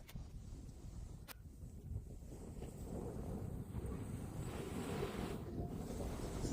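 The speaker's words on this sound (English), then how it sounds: "I think the waves are a bit bigger today." Ocean waves rolling in at a beach on Boa Vista, Cape Verde, heard as a steady, loud wash of surf mixed with heavy wind buffeting the microphone throughout, with no voices.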